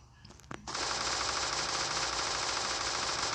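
Rapid automatic gunfire rattles in a video game, beginning after a few faint clicks and continuing as a loud, unbroken stream of shots to the end.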